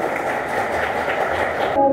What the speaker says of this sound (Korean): 여러분 어머님께 박수 한번 부탁드릴게요